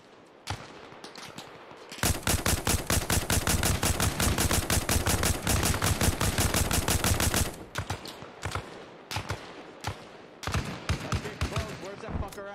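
Sustained automatic gunfire rattles in rapid bursts in the video game Arma Reforger during an attack on a Russian base, a long dense volley followed by scattered sharper shots and short bursts, loud and close.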